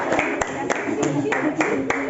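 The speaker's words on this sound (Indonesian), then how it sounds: "Tepuk tangan dulu ya." A small group in a classroom-style session claps in a quick, fairly regular rhythm, the claps close and moderately loud against a light background hum.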